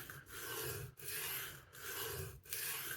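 A restored knife is drawn across a sharpening stone in four steady, gritty strokes, each a close, continuous rasp separated by brief pauses.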